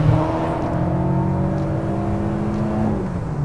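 A 1994 Volkswagen Polo G40 with its supercharged engine holds a steady, loud drone, the pitch easing slightly, with a faint whine running over it.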